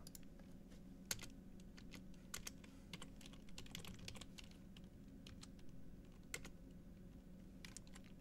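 Steady typing on a computer keyboard, with quick, light key clicks throughout and a few louder taps, under a low hum of background noise.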